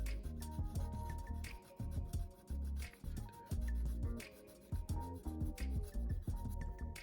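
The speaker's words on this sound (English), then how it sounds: "The 600 grit sandpaper also leaves a good surface so the paint can stick to it." 600 grit sandpaper rubs over the plastic body of a Revell 1970 Pontiac Firebird model kit, a steady, close, rhythmic scratching of back-and-forth strokes with brief pauses between passes.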